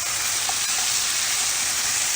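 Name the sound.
vegetables and quinoa being stirred while cooking in a pan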